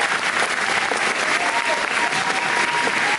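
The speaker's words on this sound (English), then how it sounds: "a great big round of applause just for her awesome work so far." Audience at a school play applauding, steady full clapping from a crowd that holds at an even level for a few seconds with no talk over it.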